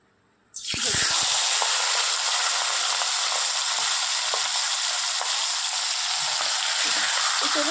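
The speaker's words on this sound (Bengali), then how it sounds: "তো চলুন মাথাটা ভেজে নেওয়া যাক" After a moment of quiet, a hilsa fish head hits hot oil in a pan and erupts into a loud, dense, continuous sizzle that stays strong throughout, with faint crackles and bubbling underneath.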